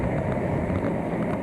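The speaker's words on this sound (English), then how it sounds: "This sound is made by pressure pushing the water through a crack, hole, or separation in the pipe." A water leak in a metal line, heard through a pipe probe as a steady, dense hiss and rushing noise, continuous and moderately loud with no pauses.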